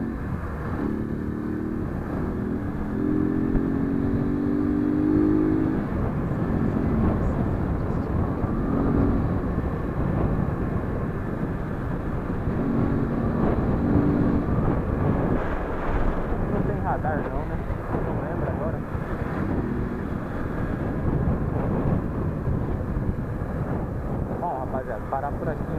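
Honda Titan motorcycle ridden through streets on delivery runs, continuous engine roar with rising revs and gear changes, close and fairly loud, with someone talking intermittently over it.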